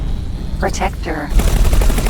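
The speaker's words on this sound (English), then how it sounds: "Why are you shooting me?" Rapid bursts of weapon fire from a space combat scene in the X4 Foundations video game, loud and close, with in-game voices speaking over the first half before the shooting thickens.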